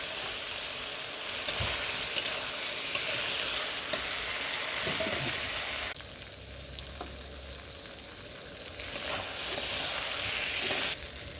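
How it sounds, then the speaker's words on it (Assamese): Lamb curry frying in a pan as water is poured in, giving a steady loud sizzle that drops briefly and then surges back, with faint stirring scrapes through it. "এতিয়া মই পানী এড কৰিলোঁ।"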